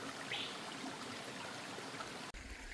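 Forest stream water runs steadily between rocks, a close, continuous broadband rush and trickle with no voices, briefly cut by a short dropout near the end.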